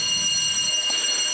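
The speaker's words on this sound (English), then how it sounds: "an alarm bell ringing" An alarm bell rings steadily during startup of the SAQ Grimeton Alexanderson alternator transmitter, a continuous loud high-pitched ringing tone held throughout, with a low machinery hum underneath.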